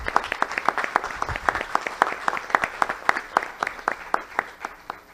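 An audience at a formal public talk in Peru applauds steadily, many hands clapping in a dense, even rhythm that carries on throughout without a break.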